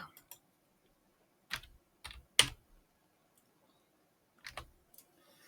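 A command being typed on a computer keyboard while drafting a site plan, a few sparse, crisp key clicks with gaps between them, close and fairly quiet, no talking.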